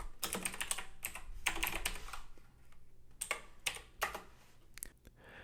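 Steady bursts of fast keystrokes on a computer keyboard while code is written, close and clear, with short pauses between runs of typing.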